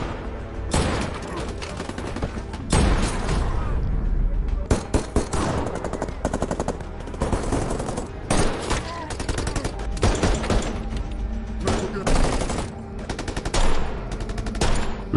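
Heavy weapons and sniper rifles fire in a film shootout at a bank, a dense, loud barrage of rapid machine-gun bursts and sharp single shots filling the whole stretch with hardly a pause.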